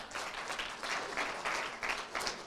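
An audience at a sales training event claps steadily, with dense, continuous applause filling the moment at close range and no voices over it.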